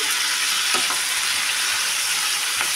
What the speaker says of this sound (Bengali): এখন আমি এর মধ্যে আদা বাটা আর কাঁচা লঙ্কা বাটা আর টমেটো, কিছু পরিমাণ টমেটো দিয়ে দিলাম।